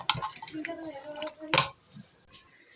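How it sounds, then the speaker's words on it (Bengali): Ghugni, a potato and pea curry, is scooped from a metal pot into a bowl, giving a few soft wet plops mixed with clinks and scrapes of a spoon against metal. "তা আমি এটা এখন একটা বাটির মধ্যে ঢেলে আপনাদের দেখাচ্ছি"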